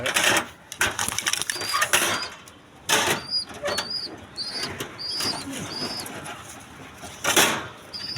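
Domestic pigeons kept in a loft call in short, repeated notes, with wing flaps and shuffling nearby, over a continuous rustling background.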